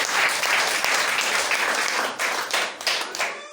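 An audience claps together to thank Papa André, a dense burst of applause that thins out and tapers into scattered claps toward the end.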